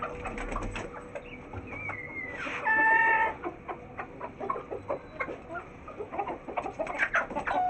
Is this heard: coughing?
no